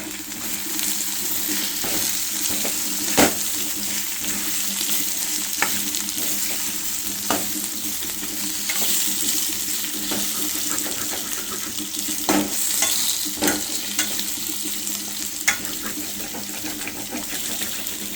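Potatoes frying and sizzling in a pan for an aloo tomato curry, a steady loud sizzle with occasional stirring clatters and sharp spikes throughout.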